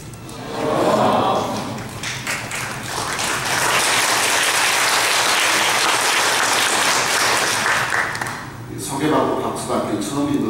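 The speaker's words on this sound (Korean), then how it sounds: "소개받고 박수받기는 처음인 것 같습니다." A church congregation applauds a visiting pastor, loud sustained clapping from a full room lasting several seconds before fading out, with voices briefly heard at the end.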